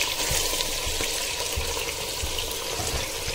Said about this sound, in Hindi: इसको हम तब तक इसमें तेल में फ्राई करेंगे